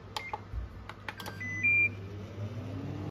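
Microwave oven heating steamed pumpkin for four minutes in a home kitchen, a quiet low hum under small clicks and knocks, then a short high electronic beep.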